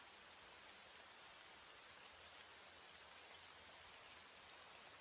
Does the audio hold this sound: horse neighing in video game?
no